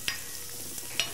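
Onion layers frying with a quarter teaspoon of turmeric in a pan, with two sharp spoon clinks about a second apart over a steady, close, fairly soft sizzle.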